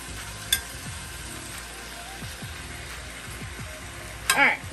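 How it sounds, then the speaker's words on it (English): Home fries and vegetables hiss steadily in a pan as a utensil stirs and scrapes through them, with a couple of sharp clanks against the pan. "Stir up all of our yummy goodness right here."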